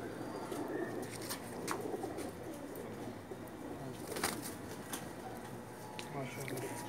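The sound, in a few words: pigeons cooing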